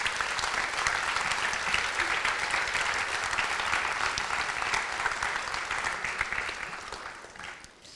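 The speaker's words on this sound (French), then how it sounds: "j'aimerais qu'on l'applaudisse et qu'on la remercie pour tout ce beau travail qu'elle a accompli" An audience at a bnei-mitzvah ceremony applauds in thanks, a steady, moderately distant patter of many hands that gradually tapers and fades out at the end.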